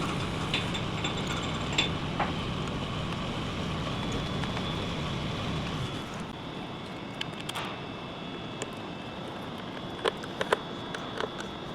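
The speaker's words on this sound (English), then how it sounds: "So we'll take the hardware and bolt these down." Hardware being bolted down during a cold air intake install on a 2025-2026 RAM 1500 RHO: steady mechanical whirring and ratcheting, then scattered small metallic clicks and taps, close and moderately loud.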